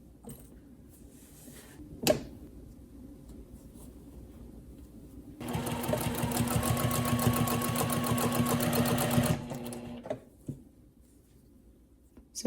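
A sewing machine stitches a hoodie seam in one steady run of about four seconds, starting and stopping abruptly, with a few quiet handling knocks before and after.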